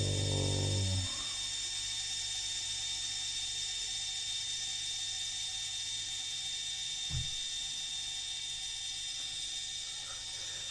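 An HP Sprocket Plus pocket photo printer whirs steadily as it feeds and prints a photo, a faint, continuous mechanical hum with a short louder start and one small click midway.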